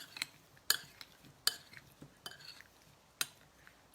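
Tomatoes seasoned with salt, oregano and extra virgin olive oil are stirred in a bowl for focaccia pugliese, with faint wet mixing and sharp clinks of a utensil against the bowl at irregular intervals.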